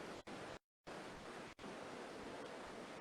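River and waterfall rushing through the Aareschlucht gorge, a dense, steady roar of flowing water with two brief dropouts.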